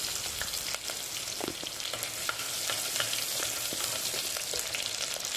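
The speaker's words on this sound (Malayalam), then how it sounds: "ഇനി നമുക്കിതിലേക്ക് ഒരു ടീസ്പൂൺ ഇഞ്ചി വെളുത്തുള്ളി ചതച്ചത് ആഡ് ചെയ്ത് കൊടുക്കാം" Crushed ginger and garlic fry in a hot pan with a steady, close sizzle, crackling continuously with small pops and occasional stirring scrapes, no voices.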